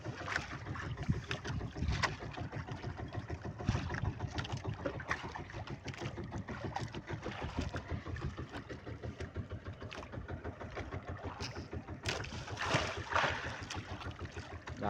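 A large fishing boat out on the open sea, churning steadily with a low rumbling engine and rushing water, wind buffeting the microphone throughout.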